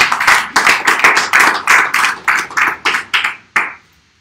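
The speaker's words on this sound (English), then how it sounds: "Give him a hand clap for me." A church congregation claps in unison during a sermon, about a dozen sharp, evenly spaced hand claps in a steady rhythm before stopping abruptly.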